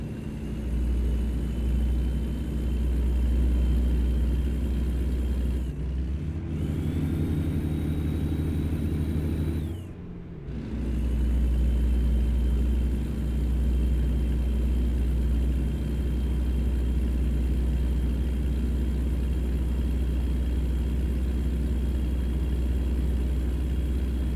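A Kenworth W900 truck with a 700-horsepower engine hauling 43,000 pounds in American Truck Simulator drones with a steady low rumble, dipping briefly as gears shift before settling back to a constant hum.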